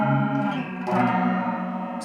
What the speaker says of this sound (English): You have like dual detune, so you can detune up and down and all around with this thing.